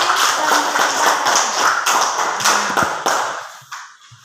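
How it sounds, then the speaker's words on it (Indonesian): A classroom of students claps for a group presenting in a maths lesson, dense rapid hand claps filling the room for several seconds before tapering off into quiet. "Iya, tepuk tangan untuk kelompok Jati."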